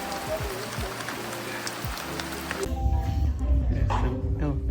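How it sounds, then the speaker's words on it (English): Rain patters steadily on an umbrella during a village walk to a mango harvest on a tropical farm, a dense hiss that grows heavier and closer partway through, with scattered low bumps underneath. "It's raining, guys."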